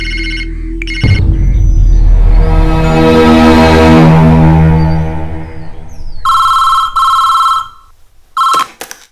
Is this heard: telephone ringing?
yes